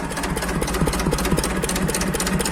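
An Ursus C-330 tractor engine idling at low revs on fresh oil, a steady low rumble with a fast, even chugging pulse, close and continuous.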